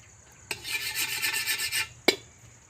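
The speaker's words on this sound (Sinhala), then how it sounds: "දැන් පොල් ටික බෙදගමු." Grated coconut stirred and roasted in a pan for rulang aluwa: a second or so of rhythmic scraping strokes, then a single sharp knock after a short pause.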